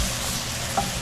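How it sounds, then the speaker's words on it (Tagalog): Chicken adobo with dried chili is stirred in a pan, a steady close sizzle with one brief scrape of the spoon near the end, no voices. "Haluin lang mabuti para kumalat ang lasa."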